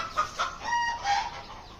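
Chickens kept in cages on a rooftop cluck in a run of short, nasal calls, close and fairly loud, with no talk over them.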